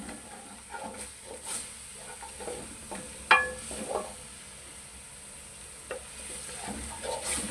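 Minced meat frying in a pan for a restaurant-style Singaporean rice, a steady sizzle with repeated stirring scrapes and one sharper clatter as tomato pulp is mixed in.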